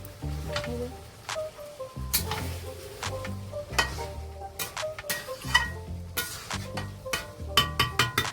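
A spoon stirs mutton curry in a cooking pot, giving irregular metallic clinks and scrapes against the pot with a soft sizzle beneath, close and moderately loud.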